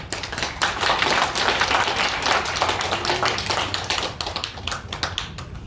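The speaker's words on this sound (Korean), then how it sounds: "오늘 나오시는 발제자 박수 한번 드리겠습니다" Audience applause at a Korean political and church rally, a dense, steady burst of many hands clapping that fills the whole stretch and fades slightly toward the end.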